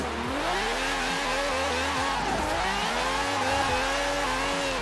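A Lykan Hypersport supercar engine in the Forza Horizon 4 racing game revs steadily at high RPM, its harmonics climbing and dipping through gear changes, loud and continuous with no talk.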